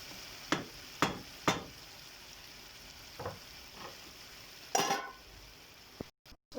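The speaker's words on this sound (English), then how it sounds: "So I'll stir it together." A spoon scrapes and knocks through fried rice and mixed vegetables in a pot over a gas flame, with several separate stirring strokes over a steady sizzle.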